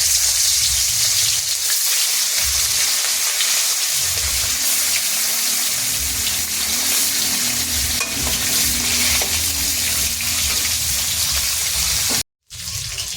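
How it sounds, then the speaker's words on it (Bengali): Fish fries in a hot wok (kadai), giving a loud, continuous crackling sizzle that holds steady for many seconds before a brief cutout near the end. "এখন আমি মাছগুলো দিয়ে দিচ্ছি।"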